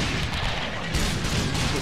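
Artillery fire in the video game Napoleon: Total War, a dense, continuous rumble of booming cannon and gunfire volleys from a battle, loud and sustained throughout.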